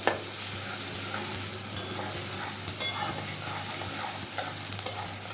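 Chopped onions sizzle steadily in a hot pan as they fry until browned for a jackfruit and prawn potato curry, with a few sharp scrapes of stirring over the constant crackle.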